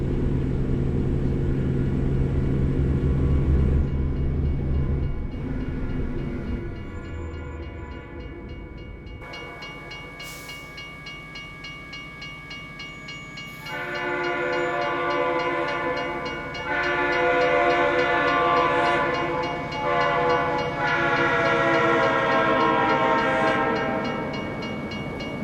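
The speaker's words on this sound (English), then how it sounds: "That was a very short train." Train in American Truck Simulator rumbling past with a loud sustained horn sounding in several long blasts, the rolling noise fading and returning.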